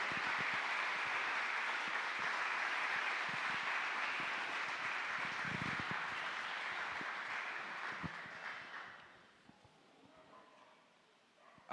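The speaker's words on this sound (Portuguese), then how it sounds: "Se você crê, aplauda ao Senhor." Sustained applause from a large church congregation, dense and steady, fading out toward the end into quieter room sound.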